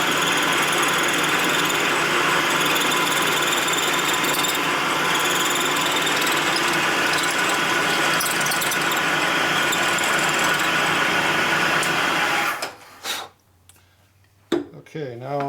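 A milling machine cutting metal with a 1/4 inch end mill on a Harley Twincam conversion part: a steady, loud, high whine running for about twelve seconds, then stopping abruptly with a few faint clicks after.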